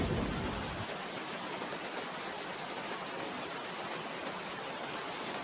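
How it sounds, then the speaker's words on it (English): Gentle rain patters against windows and rooftops in an even, soft hiss, with a fuller rush at the very start before it settles into a steady wash. "That gentle patter against windows and rooftops creates a natural white noise that drowns out the world's chaos."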